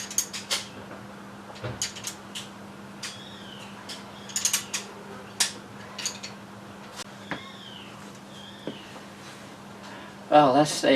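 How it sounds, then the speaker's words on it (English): Spanners and a ratchet wrench fitting the carburettors and manifold on a Mk I car give scattered metallic clicks, clinks and ratcheting bursts over a steady low hum, with a louder clatter near the end. "which involves using pretty well every spanner I own"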